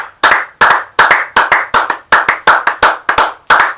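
A church congregation claps in steady rhythmic unison, about eleven sharp, loud hand claps in under four seconds, close and even, with no voices over it.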